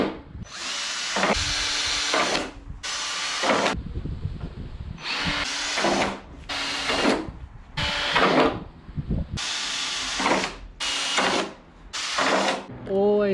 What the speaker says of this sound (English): So now it's time to drill holes into here